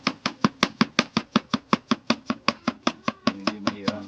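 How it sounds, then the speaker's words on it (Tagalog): Onions chopped with a knife on a board, a steady run of about twenty even, sharp thuds close by and alone, slightly softer and busier toward the end. "Ganito lang ang pag-chop ng sibuyas."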